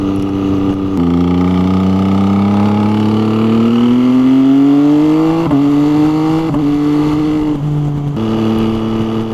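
A 2018 MV Agusta Brutale Dragster 800 RR with quickshifter and auto-blipper pulls through the gears, engine tone climbing steadily, then cutting sharply at each shift, with several quick changes in succession, loud and close.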